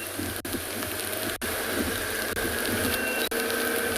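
Steady rain falls outdoors on a wet early-morning safari drive in the South African bush, a constant hissing wash with a low rumble beneath and no talk.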